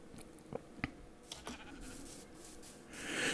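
Sheep bleating in Minecraft 1.17 Caves & Cliffs survival, with several short calls across a few seconds over a noisy game backdrop that swells toward the end.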